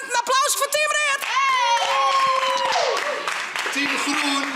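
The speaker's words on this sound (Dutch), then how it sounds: "Applaus voor Team Reert." A group of children whoop and shout loudly while hands clap rapidly to celebrate the winning Team Reert at a party, with cheering voices over the applause.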